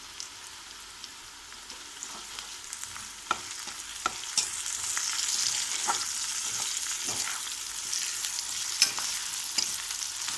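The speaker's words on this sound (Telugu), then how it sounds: "కరివేపాకు వేసుకుందాము." Curry leaves fry in hot oil for a chamagadda fry, a bright hissing sizzle that grows gradually louder, punctuated by small pops and stirring clicks, with no voices.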